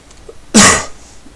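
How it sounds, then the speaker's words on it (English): A single sharp, forceful cough right after a microphone is switched on, close and loud, alone in a quiet room. "why do I always have to cough when I turn the mic on?"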